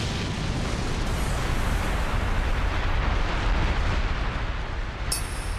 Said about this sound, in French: Explosion dévastatrice de Léon.